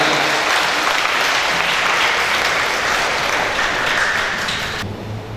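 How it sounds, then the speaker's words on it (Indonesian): A church congregation at a Catholic wedding Mass applauds the newlywed couple, loud sustained clapping that fills the space evenly and fades slightly before stopping abruptly at the end. "Kita beri tepuk tangan untuk mereka berdua sebagai dukungan kita."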